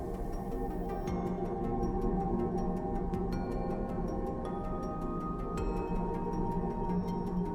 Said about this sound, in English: That's the sound of plasma waves rippling through Saturn's atmosphere, captured by the Cassini spacecraft